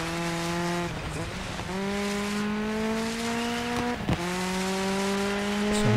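Race cars in the Dirt 5 video game accelerating on ice, engines whining upward through repeated gear shifts with brief drops between, loud and close, no talk.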